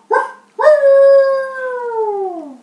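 A wolf howl sound effect: a short opening yelp, then one long, loud, close howl that holds steady and slowly falls in pitch as it trails off, with no talking.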